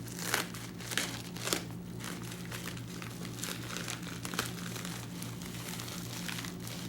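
A cardboard priority mailbox being carefully cut open, a steady close crinkling and scraping of cardboard with a few sharper cuts early on and a low hum in the background, no talking.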